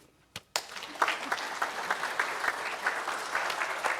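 An audience applauds as a speaker walks onto a stage at a university presentation, a brief clap or two then a dense, steady patter of clapping from a moderate-sized crowd, fairly faint and even throughout.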